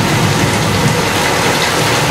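Simulated rain pouring on the Universal Studios Hollywood backlot, a loud, dense, steady hiss of water hitting concrete with no break.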